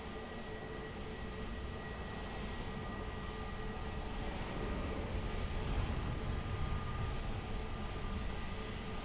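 An airplane landing on runway 20 at Lisbon Airport, a broad, steady roar that swells slightly toward the middle and stays continuous and fairly distant throughout.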